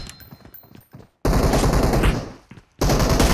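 Bursts of gunfire from a shooter game played with sniper rifles and assault rifles such as the M24, Kar98 and M416, with loud sustained volleys after quieter scattered shots and a brief silent gap.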